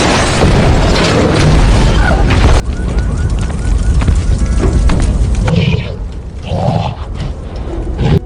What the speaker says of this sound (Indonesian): membuat helikopter kehilangan kendali lalu jatuh dan meledak